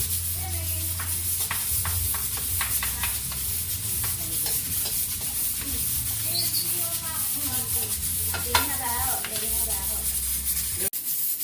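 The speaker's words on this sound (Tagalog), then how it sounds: "Lagyan natin ng mantika. Lagyan natin yung bawang." Garlic sizzles in hot cooking oil with steady frying crackle and occasional stirring scrapes, close and continuous, while a low background hum runs underneath and people talk nearby.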